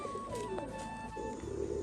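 A female pigeon coos at a pigeon loft, a soft low rolling coo close by over steady background hum and faint ambient noise.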